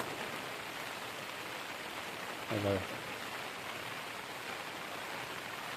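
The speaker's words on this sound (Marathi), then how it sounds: "आणि एवढा पाऊस आहे" Steady heavy monsoon rain in the Konkan hisses evenly throughout, a dense broadband wash with a brief low thump partway through.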